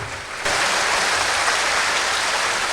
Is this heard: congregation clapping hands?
yes